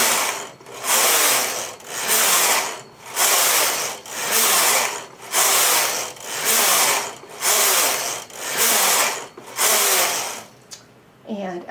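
A knitting machine's carriage swept back and forth across the needle bed, a loud rhythmic whooshing clatter repeating about every second and a half for ten rows, steady and close with no talking.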